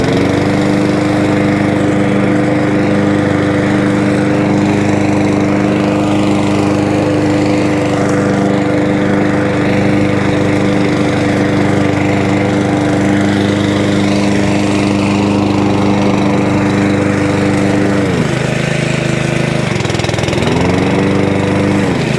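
A Kaaz Lawnflight lawn mower with a Honda GXV160 engine and a repaired Honda Pro gearbox drives along, its engine droning steadily and loudly up close, with a brief dip in pitch near the end before it settles again.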